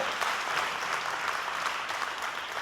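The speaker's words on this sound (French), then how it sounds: "On l'applaudit bien fort." Steady applause from an audience, a dense, even patter of many hands clapping without a break.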